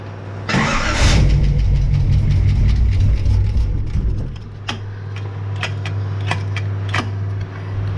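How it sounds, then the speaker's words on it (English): V8-swapped Toyota Hilux engine revved with a couple of throttle blips, a loud deep roar that swells then settles into a steady rumbling idle with a low drone, scattered with metallic clicks and ticks. "Give it a couple more hits with the throttle."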